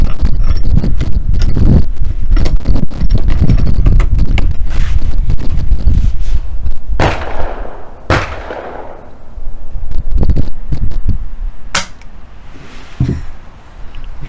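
A rifle fireforming 43 Mauser brass made from 300 Win Mag cases fires loud, sharp shots, spaced a second or two apart outdoors, over a rumbling, clattery background.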